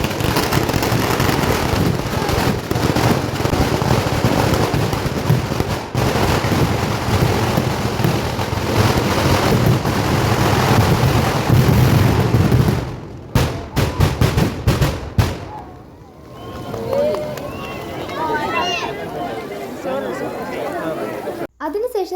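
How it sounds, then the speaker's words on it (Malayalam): A festival-night fireworks display at a temple celebration rumbles and crackles loudly and continuously, with dense bursts under crowd chatter before it thins out toward the end. "അതിനുശേഷം നല്ല അടിപൊളി വെടിക്കെട്ടും തുടങ്ങിയിട്ടുണ്ടായിരുന്നു."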